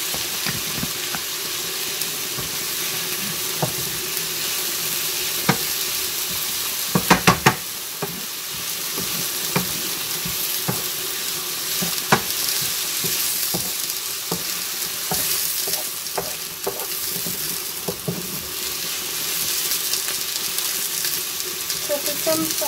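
Sliced onions and peppers for a tuna tart sizzle steadily in a hot pan, a continuous bright frying hiss with occasional spoon scrapes and clinks, close and loud throughout.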